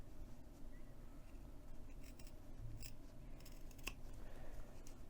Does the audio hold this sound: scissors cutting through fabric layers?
yes